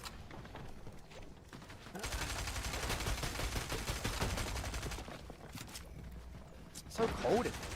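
Rapid pistol fire in a competitive video game match, a steady run of quick shots in short bursts, faint and mixed with game sounds under voices talking.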